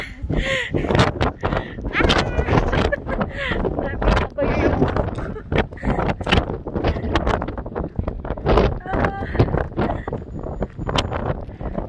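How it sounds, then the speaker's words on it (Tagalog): Strong wind buffets the microphone outdoors on a field trip at Al Khor, Qatar, producing loud, continuous low rumbling gusts and crackling distortion close up, with a voice talking through it. "Very lakas po ng hangin."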